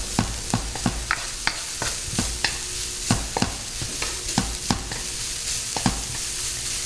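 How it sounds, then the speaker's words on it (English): Aromatics frying in a wok sizzle steadily while a utensil stirs and scrapes them in quick, sharp strokes, up close and fairly loud. "I'm just going to move around these aromatics."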